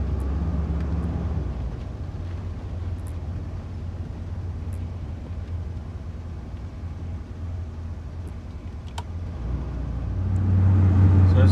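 A 1973 GMC motorhome drives along with a steady, fairly loud low engine and road rumble that swells near the end as it picks up speed, with no voices heard.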